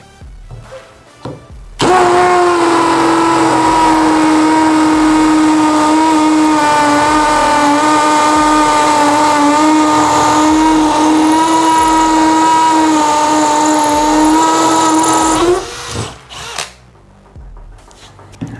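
A Bosch GSB 185-LI cordless drill bores with an 8 mm bit, a loud, steady high-pitched whine lasting about thirteen seconds before it stops abruptly, with quieter handling noise around it.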